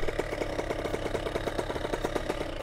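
A Kawasaki KX65 dirt bike with upgraded suspension runs steadily on a street, its small engine giving a rapid, even pulsing drone close by, with no talking.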